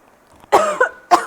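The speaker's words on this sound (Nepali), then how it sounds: "कस्तो खोकी लागेको जस्तो भएको" A woman gives two close, sharp coughs, the first a longer double burst and the second short, with near silence before them.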